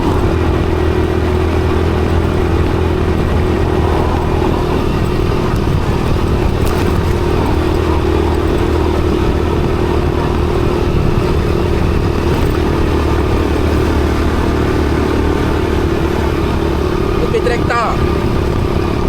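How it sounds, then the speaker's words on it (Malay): A tractor engine runs continuously with a steady low rumble and rattling clatter on a rough gravel village road, close and loud throughout. "Traktor."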